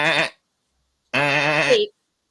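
A human voice imitates a sheep, giving two nasal bleats with a wavering tone, a short one followed by a longer one after a brief pause, close and clear.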